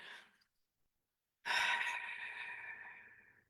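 A person breathing close and quietly: a brief exhale, a pause of silence, then a long, soft, airy sigh-like breath that slowly fades.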